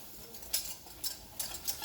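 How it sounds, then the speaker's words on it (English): Flour being stirred into a pan of bechamel (white) sauce, four short scraping stir strokes spaced about half a second apart, soft and close with a faint background hiss. "It's time to add your flour all at once and give it a little bit of a stir,"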